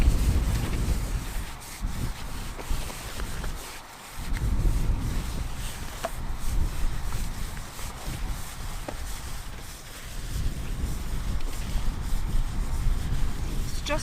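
Steady wind buffets the microphone at a fossil dig site in Wyoming, a broad roaring rush that swells and dips throughout with a brief lull partway, no voices.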